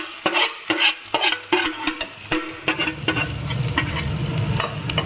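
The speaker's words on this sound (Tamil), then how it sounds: "அது பொரிஞ்சதும் வெங்காயம் போடுறேன்" Mustard and fennel seeds crackle and pop in hot oil with a few sharp clicks, then chopped onions hit the pan and settle into a dense, close frying sizzle.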